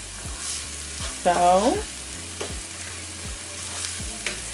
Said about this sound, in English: we're gonna go ahead and just stir this over high heat or medium high heat until this caramelizes